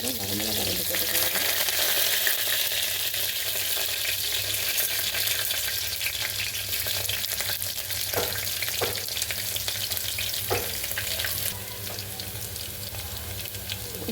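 Onion and two dried red chillies frying in hot oil for soppu, a loud continuous crackling sizzle close up, with a few brief stirring knocks and no talk.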